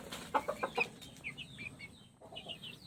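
Small young chickens clucking close by while being fed, with a quick run of four sharp clucks followed by softer scattered calls, and no talking.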